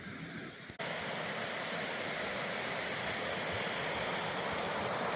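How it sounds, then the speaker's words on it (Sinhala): Water rushes steadily downhill in a stream by the old, partly collapsed Packhorse Bridge in Scotland, a dense continuous roar that starts abruptly after a brief quieter moment and then holds even and close. "ලස්සන වතුර පාරක් පල්ලයට ගලාගෙන යනවා"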